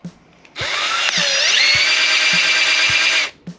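A cheap power drill fitted with a garden water-pressure attachment whirs up to speed, pitch rising briefly, then runs steadily at a high whine for about three seconds before stopping abruptly.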